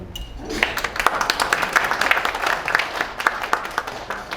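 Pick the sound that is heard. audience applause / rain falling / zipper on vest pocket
audience applause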